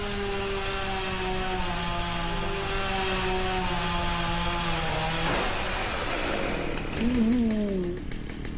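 Chainsaw cutting into a tree trunk, a steady buzzing whine that holds for several seconds, then bogs and wavers as the chain bites into the wood, with a short pitch rise near the end.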